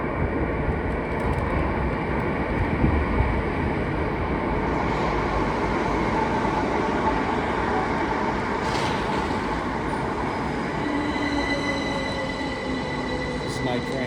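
A train arriving at a London station platform, a steady loud rumble of wheels and motors with faint squeals and tonal whines, continuous throughout with no talk.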